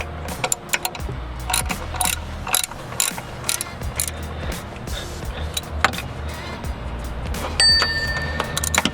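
A ratchet wrench torques bolts during a Chrysler 300 water pump replacement, giving rapid clicking pawl ratchets in quick irregular runs throughout, close by over a low hum of background noise.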